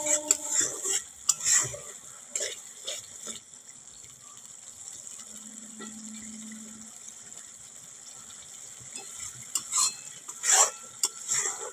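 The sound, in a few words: sautéing spice masala in oil for salted sea fish curry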